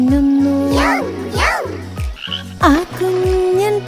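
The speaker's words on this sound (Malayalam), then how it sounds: "ഒരു കുഞ്ഞൻ തവളയിതാ മരത്തടിയിലിരിക്കുന്നു." A small cartoon frog sitting on a log gives loud, bubbly croaks over the bouncy synth music of a children's nursery rhyme, several croaks in quick succession.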